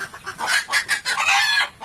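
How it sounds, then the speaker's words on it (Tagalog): Several chickens clucking close by in quick, uneven bursts, loud and busy with overlapping calls. "yung mga manok natin dito."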